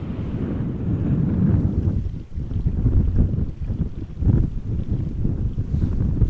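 Strong crosswind gusts at Amsterdam Schiphol Airport buffet the microphone, producing a loud, rough roar that surges and dips in waves throughout.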